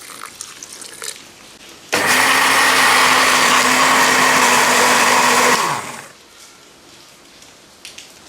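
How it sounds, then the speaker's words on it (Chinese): An electric blender whirs loudly for about four seconds, blending chopped spinach leaves with a little water, starting abruptly and winding down, with quiet room noise before and after. "切的菠菜这个段儿，咱给它放在调理机里"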